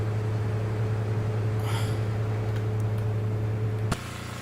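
Simulated Saab 430 regional turboprop engines in the X-Plane flight simulator run as a steady low droning hum, then cut off abruptly near the end, leaving a thinner background.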